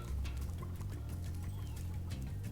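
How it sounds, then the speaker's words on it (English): Chickens clucking in a video game, a soft run of repeated clucks and coos over a steady low background hum, with no talking. "tries to kill chickens"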